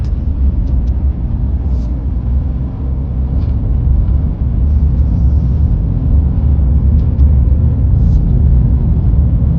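Steady, loud low rumble of a car driving along a road in Lekki, Lagos, continuous engine and tyre noise with faint higher hiss and no voices.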